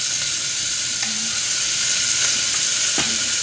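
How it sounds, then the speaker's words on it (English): Two chopped onions fry in a pan for pav bhaji, a loud, steady, close sizzle with a few faint scrapes of stirring and no talk. "We're going to cook the onions until they start to brown"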